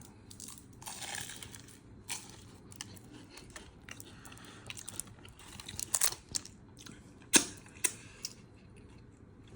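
Crunchy vanilla-filled pastry from a Sicilian bakery in Addison, Texas, bitten and chewed up close, quiet irregular crackly crunches with a few sharper snaps, no talking.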